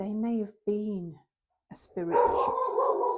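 A dog barks in short, loud bursts at a postman arriving at the door, coming in after a stretch of indoor speech and overlapping a voice that keeps talking.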